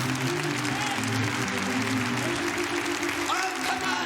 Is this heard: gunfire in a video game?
no